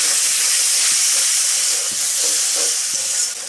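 Spiced masala sizzles and hisses loudly in a hot pan as water is added, a steady bright steaming fizz with faint stirring knocks and no voices.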